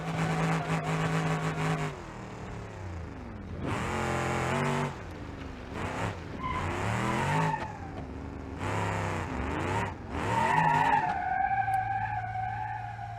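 A big cop-car motor in BeamNG.drive roars and revs hard through repeated bursts while the tires squeal and skid, the engine pitch sweeping up and down, loud and close, with no talking.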